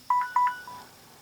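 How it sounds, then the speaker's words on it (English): A mobile phone gives two short, bright electronic beeps in quick succession and then a fainter third tone, close and clear with no talking. "Sorry, that was my phone."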